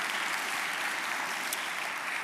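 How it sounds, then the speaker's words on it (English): A brief, full burst of audience clapping at an evening author book event hosted by a Baptist church, many hands together in a dense, even patter lasting about two seconds. "So a big round of applause for First Baptist Church and all the wonderful volunteers here."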